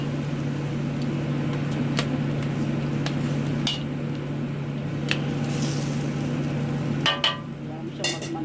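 Pure coconut milk bubbles and sizzles steadily in a pan over lowered heat while cooking ginataang manok, with a low constant hum and a few soft clinks and scrapes now and then.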